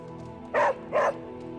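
A puppy named Charlie in Marvel's Midnight Suns video game gives two clear, close barks about half a second apart over a quiet background hum.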